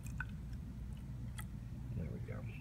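Rubbing alcohol being poured onto a layer of corn oil in a container, giving faint soft drips and trickles over low background noise.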